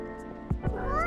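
A cat in the video game Coffee Talk 2 lets out a couple of short, close meows in quick succession over soft background music.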